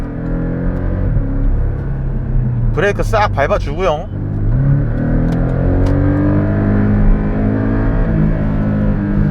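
A Porsche 718 Cayman GTS engine holds steady near 4,000–5,000 RPM before a launch, a loud continuous drone with a brief burst of sharp rising bursts midway, while someone talks over it throughout.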